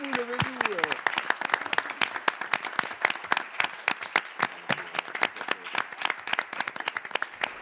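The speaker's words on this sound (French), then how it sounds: "Je pense qu'on peut l'applaudir." Audience applause at a Cannes film festival press conference, dense rapid clapping from a room full of people, loud and sustained, with a brief voice at the start.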